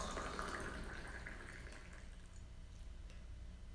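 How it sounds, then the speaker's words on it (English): Hot water for tea is poured back and forth between vessels to cool it: a faint, continuous trickling stream that gradually thins out, heard alone without speech. "I'm going to go back and forth to cool the water"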